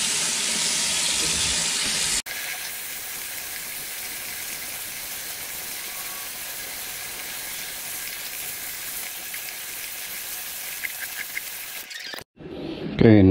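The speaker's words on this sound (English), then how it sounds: "from the top, I am going to rinse it one last time to make sure that we are completely rinsed out and clean" Water sprays steadily over a K&N air filter as it gets a final rinse, giving a continuous close hiss after a brief louder burst at the start, with a short pause and a clatter near the end.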